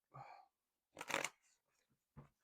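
Tarot cards shuffled by hand in a few short bursts: a soft riffle, then a louder, denser flurry of card noise, followed by faint flicks and one final brief snap, in an otherwise quiet room.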